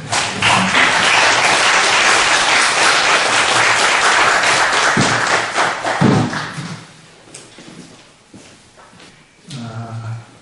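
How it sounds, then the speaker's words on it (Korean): A lecture audience gives loud welcoming applause for a guest speaker, a thick sustained roar of clapping that fades out after about six seconds, followed by quieter shuffling and a brief voice. "큰 환영의 박수를"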